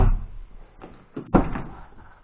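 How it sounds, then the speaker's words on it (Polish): The door of an Audi A2 car opening, a few dull clunks and a firm latch thud up close, with no talking. "Te drzwi się otwierają."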